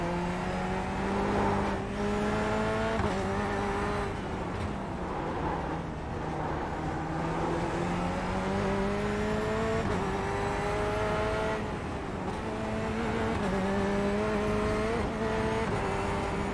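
A Corvette C8 GTE race car engine in the iRacing simulator drones steadily at high revs, rising through the gears with brief drops at each shift, loud and continuous from start to finish.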